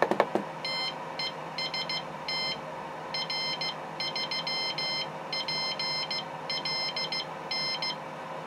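A homemade telegraph keyer sends a Morse general call (CQ) as a clear repeating pattern of electronic dots and dashes, moderately loud over a steady background hum.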